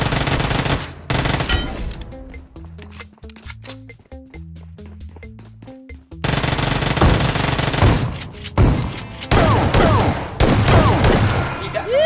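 Shotgun fire in the PUBG Mobile video game: rapid bursts of blasts at the start and again in the second half, with a stretch of stepped game tones between them.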